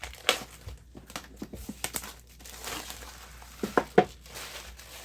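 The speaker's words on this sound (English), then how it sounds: "so we're just going to have to rip it open a little bit" Plastic packaging of a Moza Mini S gimbal is ripped open by hand, giving scattered close crinkles and sharp tearing bursts, the loudest cluster near the end.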